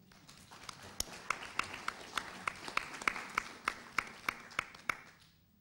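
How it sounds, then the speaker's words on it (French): Slow, sparse clapping at a colloquium on Camille Claudel, about a dozen distinct sharp claps in a steady rhythm, fairly close and isolated rather than a full crowd, fading out at the end. "Nous pouvons l'applaudir."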